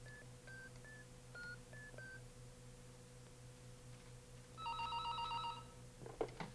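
A telephone being dialed, with a series of short, separate keypad tones in the first two seconds, then a louder burst of ringing tones near the end, all over a steady low background hum.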